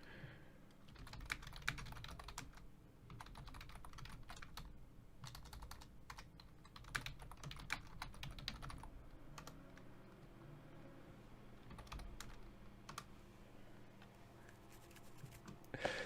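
Fast, clicky typing on a computer keyboard, irregular bursts of sharp key clacks close to the microphone, faint and with no talking.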